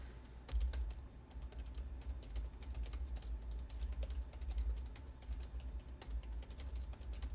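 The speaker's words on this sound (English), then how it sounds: "We're going to test typing." Keystrokes on a computer keyboard that is not particularly loud, recorded through a FiFine T683 USB microphone, tapping in a steady irregular stream over a low hum of background noise.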